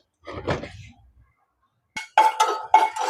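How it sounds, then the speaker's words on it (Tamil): A few cardamom pods roasting dry in a pan for mung kavum, giving one soft rattling burst, a pause, then a run of sharp clinks and scrapes against the metal close by. "கொஞ்சம் வறுத்தெடுப்போம்."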